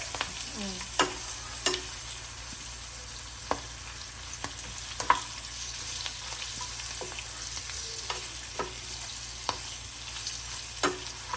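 Seasoning for lemon rice fries steadily in a pan, a continuous crackling sizzle with sharp pops and spatula taps scattered throughout, fairly close and with no voices.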